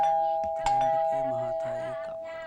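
An indoor doorbell sounds a clear two-tone chime, and its ringing tones fade slowly over a few seconds with no other sound.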